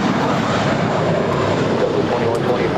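An American Airlines jet takes off from runway 25 right at LAX, its engines producing a loud, continuous broadband roar that stays steady and close throughout, with a voice faintly present beneath.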